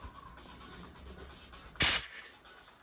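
An Everest RGB CO2 gun fires a single sharp, loud hiss of gas lasting about a quarter second, then fades, against a quiet room.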